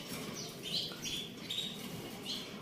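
A large caged bird gives several faint, high chirps spread over a few seconds against a steady murmur of background noise.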